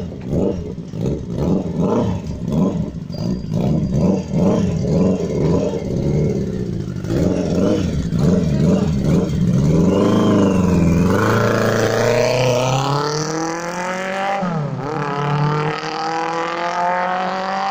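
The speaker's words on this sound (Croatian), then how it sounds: "daj mu gašćinu, Bajo, to, sine, bravo, bajkeru" A motorcycle engine at a moto service revs repeatedly at the start of the 2018 riding season, loud and close, with rhythmic throttle blips building into sustained high revs and a final surge, with no talk over it.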